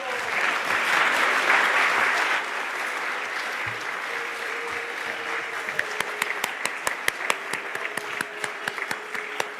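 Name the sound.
applause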